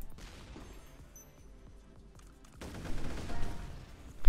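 The turret mob weapon in the artillery game Shellshock Live fires a rattling burst of repeated shots that swells loudly in the second half and ends with a sharp impact, with no voices heard.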